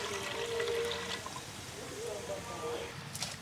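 Water pours into strained soaked tamarind for a village-style Tamil fish curry, a steady trickling splash running through the clip under faint background voices.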